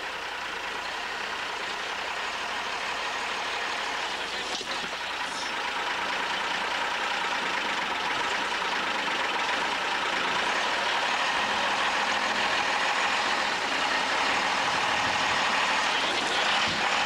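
A racing truck idles at a 1997 European truck trial event in the Czech Republic, a continuous rough engine rumble with a slight rise in loudness toward the end, heard without commentary.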